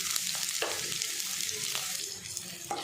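Onion, ginger and green chilli fry in a pan with a steady, bright sizzle, broken by occasional sharp clicks of stirring.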